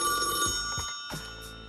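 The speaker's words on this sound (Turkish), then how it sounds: "Telefon çalıyor." Telephone bell ringing in a room, a steady run of repeated electronic rings with short gaps, loud and alone with no talk.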